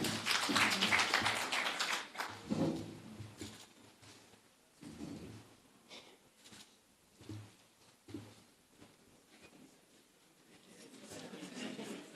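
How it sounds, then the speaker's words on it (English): Audience applause at a youth forum on Kenya's budget as a student representative, Mercy, walks up to speak; a loud burst of clapping at first that thins into scattered claps and murmuring. "Let's clap for Mercy as she comes."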